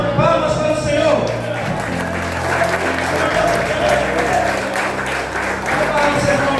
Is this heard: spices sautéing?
no